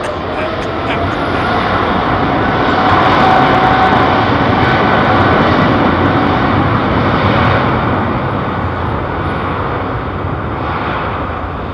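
An Airbus A380 airliner at London Heathrow gives off a loud, sustained broad jet roar that builds slightly then holds steady, heard close and uninterrupted.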